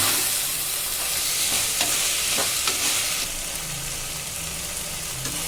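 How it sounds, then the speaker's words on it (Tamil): Tomato, onion and green chili sauté in a pan with rock salt while being stirred, giving a steady sizzle broken by scraping stir strokes that soften toward the end. "நல்லா ஒன்றா வதங்கி வரட்டும்"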